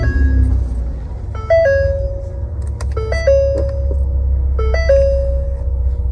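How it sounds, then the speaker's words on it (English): A 2015 Ford Explorer XLT wheelchair-accessible van starts up. Repeated electronic chime tones sound in short sequences over a steady low engine rumble. "Let's go ahead and start up the vehicle."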